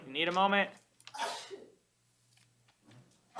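A single sneeze from a woman in a jail courtroom, loud and close at the start, followed by people talking nearby.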